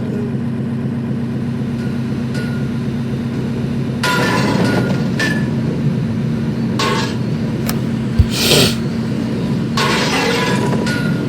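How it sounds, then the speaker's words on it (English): A freight train approaches with a loud, steady rumble and hum, broken by metallic clanks and one sharp knock partway through. "A freight train was coming behind"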